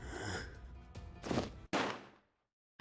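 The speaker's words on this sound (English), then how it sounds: "I thought I heard a gunshot far away." A distant gunshot in a visual-novel style video game, several muffled bursts of noise followed by a sharp crack that fades into silence, quiet overall with no voices.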